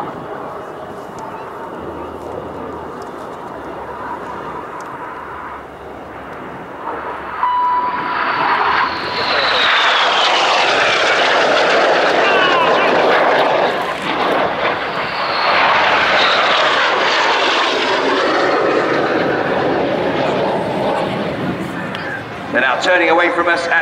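Red Arrows display jets roar low over the runway at Fairford during an airshow synchro pass, a loud sustained rushing engine noise that swells and peaks as they pass close, with faint talk beneath.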